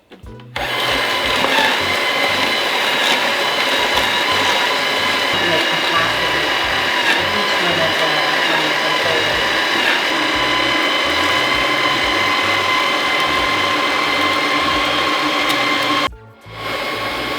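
A Nama juicer motor runs loud and steady for about sixteen seconds, straining and grinding with a mechanical ratcheting whir while juicing celery, then cuts out abruptly.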